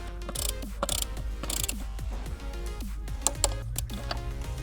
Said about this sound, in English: they're using a wrench to connect it correctly.